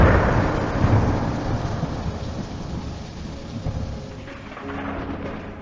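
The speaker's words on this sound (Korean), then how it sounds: "소나기와 구름" A monsoon shower in Bali, with heavy rain falling steadily and a long rolling thunder rumble that starts loud and fades gradually under the constant downpour.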